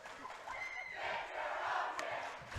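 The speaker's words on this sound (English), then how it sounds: "The Eagles shouted back, she's a sophomore on that point" At a high school volleyball match between Rich and Duchesne, a student section shouts a chant across the gym, a distant, echoing crowd yell rising and holding for a couple of seconds.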